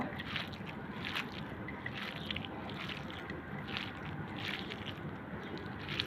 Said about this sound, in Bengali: এখন দিয়ে দিব খাঁটি সরষের তেল, দিয়ে ভালো করে আবার মাখিয়ে নেব।